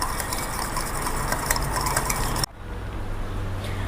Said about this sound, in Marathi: आपल्याला या दह्याला छान फेटून घ्यायचे